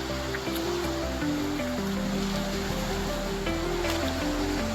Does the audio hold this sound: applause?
no